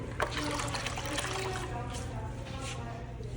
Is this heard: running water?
yes